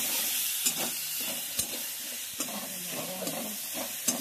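Ginger paste and chilli frying in a pan for a prawn (chingri) dish, a steady soft sizzle with occasional stirring clicks and scrapes throughout, close and moderate in level.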